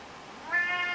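A single drawn-out cat meow rising in the second half, close and clear, with no talk over it.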